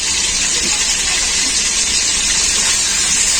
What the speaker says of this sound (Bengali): তো আলুগুলো এখন আমি ভেজে নেব